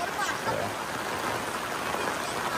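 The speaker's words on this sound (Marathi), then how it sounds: "पाऊस खूप जोरात वाढलेला आहे" Heavy rain pours down in a Konkan village beside paddy fields and a stream, a dense, steady wash of falling water that stays loud and unbroken throughout.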